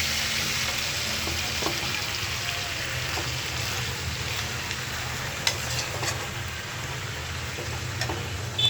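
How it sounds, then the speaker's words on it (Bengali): Meat and spices fry steadily in a hot pan, a dense continuous sizzle up close with occasional faint stirring clicks. "ওই যে মাংসটা দিয়ে দিচ্ছি, মশলাটা ভালো করে কষায়।"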